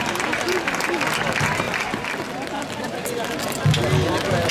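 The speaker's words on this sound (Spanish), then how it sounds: "Palmas, palmas para Pico" Crowd at a bullfight in Cariñena, Zaragoza, clapping and cheering in a continuous babble of applause, with voices mixed in and a brief louder burst near the end.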